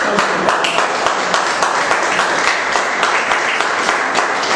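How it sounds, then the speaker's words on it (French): A large audience at a Senegalese political youth meeting applauds, with loud, dense, continuous clapping that holds steady throughout and carries no speech over it. "J'aimerais que vous applaudissiez."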